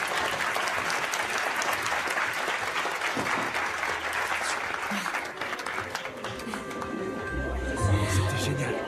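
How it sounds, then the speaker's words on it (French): An audience claps loudly and steadily for several seconds, the applause fading slightly near the end as voices and other sounds come in. "On applaudit Marley!"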